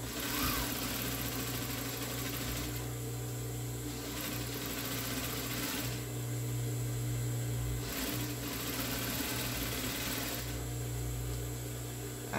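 A sewing machine stitches a universal thermal cover, running as a close, steady mechanical hum with brief pauses and restarts every few seconds.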